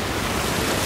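Ocean waves wash around someone wading through warm shallow water at an Australian beach, making a loud, continuous, close rushing hiss with no pauses.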